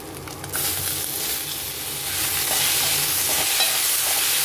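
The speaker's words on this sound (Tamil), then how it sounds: "தக்காளி நல்லா வதங்கட்டும்" Tomatoes frying in a hot pan, a loud close sizzle that swells after a brief quieter start and then holds steady and bright, with faint stirring underneath.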